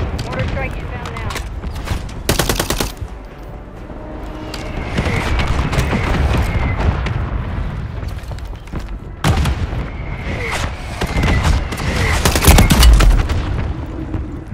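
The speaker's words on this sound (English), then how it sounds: "Mortar strike inbound now" Mortar strike explosions from a Call of Duty Warzone match, heard as several loud booming blasts and bursts of gunfire across the scene, with voices talking over them.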